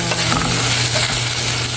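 Water spinach (kangkong) sizzles loudly in a hot pan while being stirred, a dense continuous frying hiss with faint stirring scrapes and no voices.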